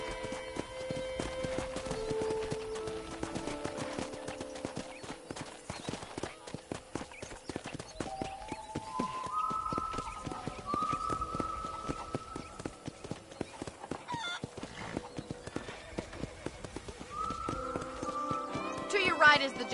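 Horse hooves clip-clop steadily in the Red Dead Redemption video game, a continuous rhythmic trot of hoofbeats under a man's and a woman's conversation and soft background music, moderately quiet throughout.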